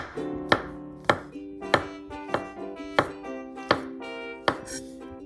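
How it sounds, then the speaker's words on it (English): A knife cutting mushroom caps into small pieces on a cutting board, eight crisp evenly spaced chops with short ringing taps between them, close and clear, no talking. "Slice the cap of the mushroom into small pieces."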